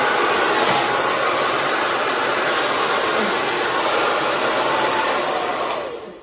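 Professional ionic hair dryer blowing air, a loud, even, breathy rush that holds steady for about six seconds before tapering off at the end.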